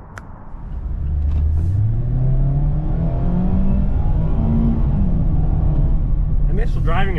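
A 2023 Mazda MX-5 Miata GT RF with automatic transmission drives along, its engine droning steadily and rising in pitch as it accelerates through gears, loud and continuous from start to finish.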